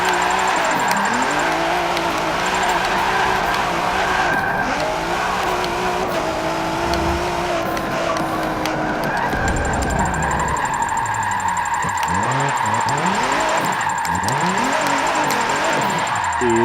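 A 2017 Ford GT drifts in the Forza 7 racing game, its engine roaring loudly and continuously with revs surging and falling throughout, and no talking.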